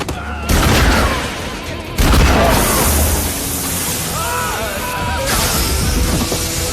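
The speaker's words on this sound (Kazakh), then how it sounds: "қанды атыс басталады" A bloody gunfight breaks out in a film, with heavy booming gunshots and crashing impacts, loud and dense, layered with dramatic music and shouted voices.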